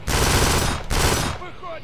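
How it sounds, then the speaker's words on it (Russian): Machine gun fire in the video game Kane & Lynch 2, a loud continuous burst that briefly breaks and resumes before cutting off into a fading echo. "Во, пулемет возьму себе."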